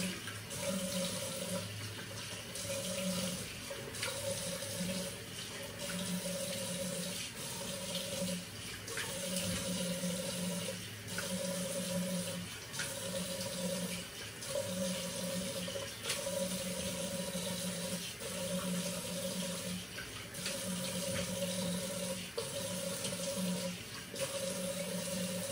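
Tap water runs steadily into a sink while rinsing off after a shave with tobacco-scented shaving cream, a continuous close splashing rush with no voices.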